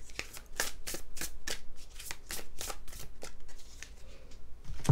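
A tarot deck is shuffled close up, giving a rapid, crackling run of card riffles and flicks that continues steadily for several seconds without talk.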